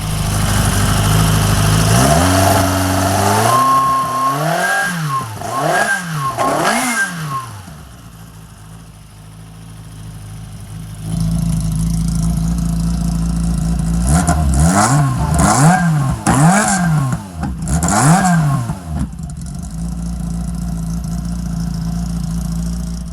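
A small offset-crank engine with a 1040 steel crankshaft fires up and revs in rising, wavering bursts, drops back toward a quieter idle, then revs hard again in several sharp climbs, loud and close with no talking.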